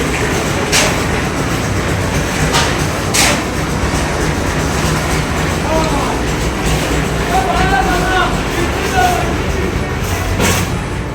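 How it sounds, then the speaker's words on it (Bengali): A concrete mixer machine runs during roof casting on a construction site, a loud, steady mechanical rumble and drone with scattered knocks and clanks and faint voices underneath. "বন্ধুরা দেখো, আমাদের মেশিন স্টার্ট দিয়েছে, ঢালাইও শুরু হয়ে গেছে।"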